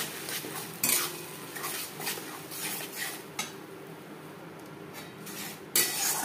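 A utensil scrapes and stirs tomato paste with garlic in a cooking pan for a cabbage curry, in steady scraping strokes with a faint sizzle underneath.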